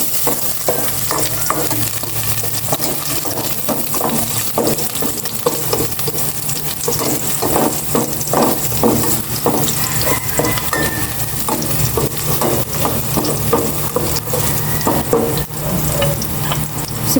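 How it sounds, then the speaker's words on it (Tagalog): Garlic sautéing in cooking oil in a pan, a loud, continuous sizzle broken by frequent scraping and clattering strokes of a utensil against the pan, close-up and busy, with no talking. "Igisa ko na itong bawang."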